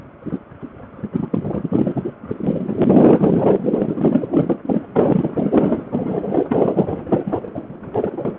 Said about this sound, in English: It's still windy even down in the canyon.